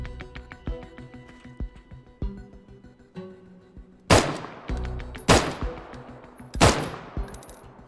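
Three loud, sharp MK417 sniper rifle shots in the video game Deadside ring out about a second apart, each with a long echoing tail, over a steady bed of in-game ambience and quieter earlier clatter.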